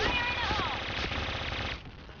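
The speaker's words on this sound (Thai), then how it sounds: "อุ้ยยิงไม่โดน มันหันมายิงผมแตกก็ได้" PUBG video game gunfire, a dense rattling burst of automatic shots that fills the moment steadily and then cuts off, loud and close, with a voice audible underneath.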